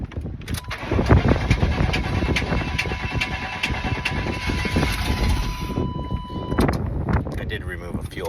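A Chevy truck engine, just refitted with new parts after running rough, cranks and catches, then settles into a loud, close idle with wind buffeting the microphone and a voice talking over it.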